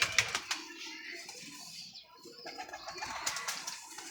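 Pigeons kept in pairs in a home loft, offered for sale, coo softly amid fluttering and scratchy movement, faint and close, with intermittent clicks and rustles throughout.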